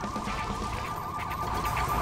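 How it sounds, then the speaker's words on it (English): A wailing police siren in the video game Lego City Undercover cycles up and down continuously over a low engine rumble, sounding steady and fairly close. "Listen to the sirens."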